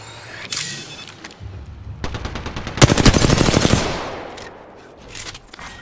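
Bursts of rapid automatic gunfire in a video game, sharp close cracks in short volleys with a heavy rattling burst in the middle, then scattered single shots fading out.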